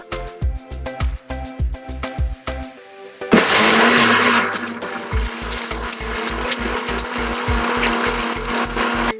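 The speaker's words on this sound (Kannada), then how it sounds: "ಮೊದಲೇ ಹುರ್ಕೊಂಡಿದ್ದ ಉದ್ದಿನಬೇಳೆ ಕಡಲೆಬೇಳೆ ಧನಿಯಾ ಎಲ್ಲ ಹಾಕೊಂಡು ಎರಡು ನಿಮಿಷ ರುಬ್ಕೋಬೇಕು" A kitchen mixer grinder blends roasted urad dal, chana dal and coriander seeds for bisi bele bath powder: rapid rhythmic thumping pulses give way to a loud, continuous whirring roar, with no voices.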